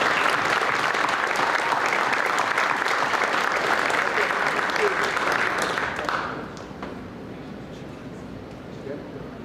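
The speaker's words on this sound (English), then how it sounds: "let's give them a round of applause" At a high school and middle school spring sports banquet, an audience claps for a team in a loud, sustained round of applause that fades out after about six seconds, leaving only quiet room sound.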